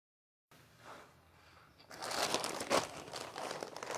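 Plastic packaging around a three-piece Almirah lawn suit is opened, giving a close crinkling rustle that starts quietly and grows louder and busier after a couple of seconds.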